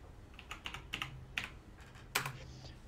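Clicks on a computer keyboard come in a short, irregular run of sharp taps, close but faint over a quiet hum, with a louder keystroke near the end.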